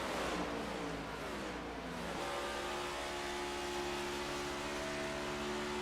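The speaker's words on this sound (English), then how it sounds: "you can hear how wound up this car is" A Scrambler Series race car engine revs hard and steadily, a loud high-pitched whine climbing in pitch before settling into a sustained, tightly wound drone.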